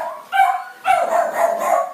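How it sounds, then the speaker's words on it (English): Pet dog barking indoors at home, two or three sharp, loud, close barks with short yips between them. "Oh, that's my dog."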